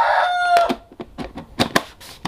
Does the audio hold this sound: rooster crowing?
yes